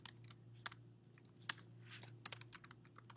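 Quick bursts of key presses on a computer keyboard, close and crisp, with irregular clusters of clicks as a short bit of text is typed out, in a quiet room.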